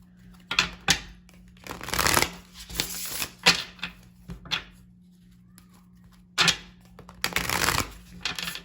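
Tarot cards being shuffled in repeated bursts of riffling and slapping, with short pauses between them, close by and fairly loud; no talking.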